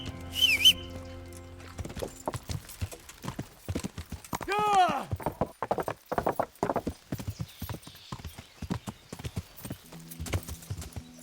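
Horse hooves clip-clopping in the Kingdom Come: Deliverance video game, a close, uneven run of clear hoof strikes with a neigh and a whistle partway through, over quiet game ambience.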